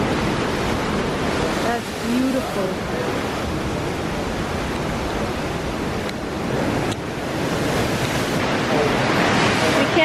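Loud surf breaks steadily on a windy beach at Labadee, Haiti around sunset, a continuous broadband roar with wind buffeting the microphone, while a person briefly speaks over it.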